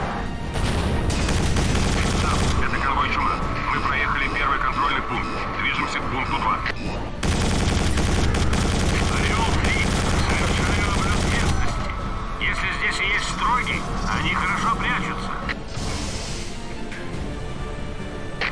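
Machine gun fire in the Quake 4 video game, loud sustained bursts of automatic fire with booming impacts and mechanical clatter, pausing briefly near the middle before resuming, with voices talking over it.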